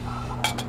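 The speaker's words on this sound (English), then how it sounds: "you take these grates and set them on your pan like that." Two quick metallic clinks as metal grates are set down on a Kelly Kettle pan, close by over a low steady hum.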